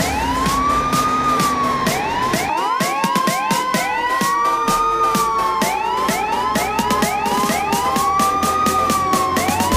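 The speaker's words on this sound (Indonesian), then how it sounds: "Widih, ini ada mobil pemadam kebakaran lagi teman-teman." Toy fire truck siren wailing loudly and continuously with overlapping electronic rising and falling tones and rapid clicking pulses, close up and without talk.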